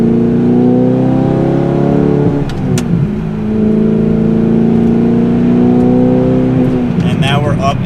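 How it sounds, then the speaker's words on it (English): Manual-transmission car accelerating through second and third gear, engine drone rising steadily, dipping briefly at a shift and climbing again, loud and close throughout. "Shift, give it a little gas in the second, accelerating, a little bit of gas in the third"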